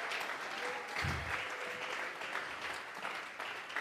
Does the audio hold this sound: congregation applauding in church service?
yes